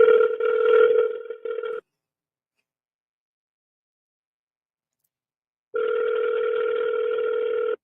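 Ringback tone of an outgoing phone call that goes unanswered, two long ring bursts separated by a silent gap, steady and clear with no talk over them.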